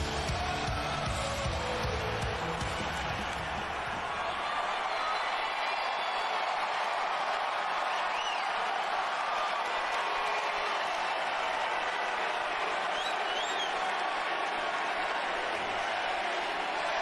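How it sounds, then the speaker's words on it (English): A wrestling arena crowd roars and cheers in a steady, loud wash of noise that carries on throughout, with a brief voice heard near the start. "Have been an amazing crowd tonight."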